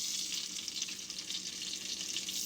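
Bacon-wrapped salmon fries in a pan with a steady, fairly quiet hiss and crackle of sizzling fat, unbroken and with no voices.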